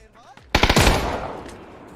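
Gunfire in a video game bursts in suddenly as a rapid cluster of loud close shots, then rings off into a decaying tail, with a faint voice just before the burst.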